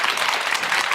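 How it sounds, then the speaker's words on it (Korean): A television studio audience gives a short burst of dense, even applause to welcome a guest onto a Korean talk show, heard alone without voices. "큰 박수로 맞아주십시오."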